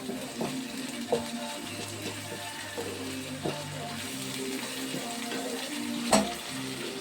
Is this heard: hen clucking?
no